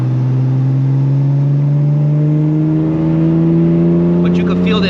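Tuned BMW M4 accelerates from inside the cabin, a loud steady engine drone whose pitch climbs gradually, with a voice briefly heard near the end.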